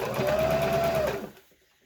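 A sewing machine runs steadily while stitching cotton fabric for a hospital face mask, a continuous loud motor whir with rapid needle clatter for over a second before stopping abruptly into quiet.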